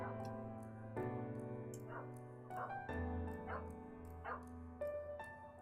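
An excited dog gives a string of high yips and whimpering barks in irregular bursts, fairly faint and somewhat distant over a constant low hum.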